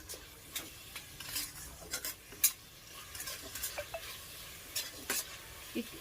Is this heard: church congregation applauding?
no